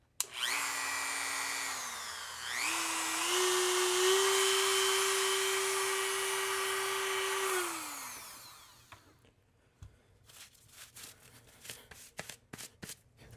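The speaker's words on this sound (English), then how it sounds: "Okay, it's gonna get ultra noisy." A Dremel rotary tool whines at high speed while cutting, rising in pitch as it spins up, holding a loud steady scream for several seconds, then winding down; scattered clicks and handling noises follow.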